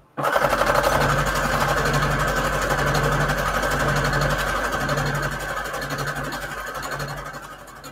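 A sewing machine runs fast, stitching fabric onto index cards with a decorative pointed stitch: a rapid, even mechanical whir with a rhythmic needle clatter, steady for several seconds before easing slightly near the end.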